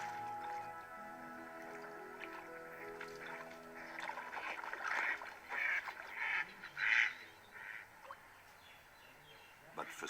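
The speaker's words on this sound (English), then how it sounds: "Home to many water birds, and especially, thanks to the large number of fish, the hunting grounds of the grey heron." Water birds on a fish-rich lake, quacking and honking calls rising in a few loud bursts midway over soft ambient water and faint drips.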